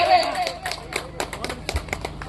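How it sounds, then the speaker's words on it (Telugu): Audience applause at a prize ceremony for a senior-category contest in Tangutur village, Nandalur, Annamayya district: scattered, fairly sparse claps patter along after a brief voice at the start. "గట్టిగా చప్పట్లు ఉండాలి"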